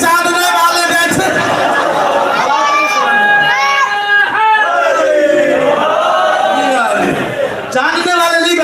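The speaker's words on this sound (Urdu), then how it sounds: "مجمع میں ایک نعرہ لگایا جاتا ہے" A large mosque or majlis gathering during a Safar commemoration for Imam Ali Raza chants a religious slogan in unison, loud and close, with rhythmic rising calls and swelling massed voices throughout.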